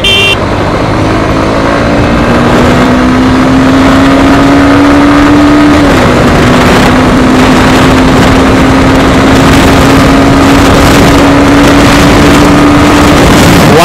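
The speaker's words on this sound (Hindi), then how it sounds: "तो फोर पे फोर्थ गियर का लिमिटर आ गया" Honda Hornet 2.0 motorcycle engine revving hard through fourth gear up to the rev limiter, a loud sustained drone rising steadily in pitch, dipping briefly, then climbing again to hold at the limiter.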